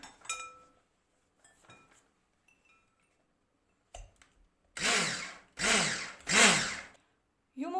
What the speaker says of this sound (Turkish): Şimdi de şekerimi ilave edip bunları mikser yardımıyla çırpıyorum